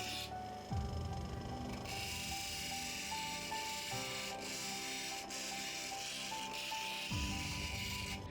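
A gemstone is polished with cerium oxide on a motorized lap, giving a continuous close whirring hum with a gritty rubbing texture. Brief pitch changes occur as pressure shifts, with no talking.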